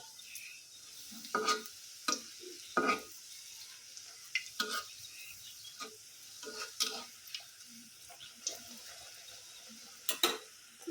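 Luchi flatbread frying in hot oil: a soft, low background sizzle broken by repeated sharp clinks and scrapes of a utensil against the pan, close and intermittent, with no talking.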